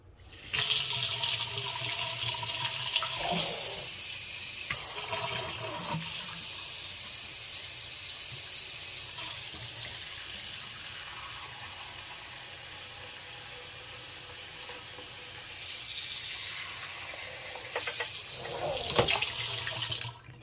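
Water runs steadily from a sink tap, lukewarm, for cleaning fountain pens; a constant hiss that is louder at the start and briefly surges near the end.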